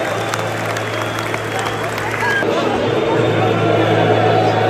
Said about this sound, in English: They're booing.